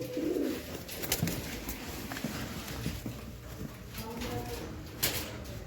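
Pigeons, including black birds being shown for sale, coo softly and intermittently nearby, with a voice and background chatter over a constant low noise.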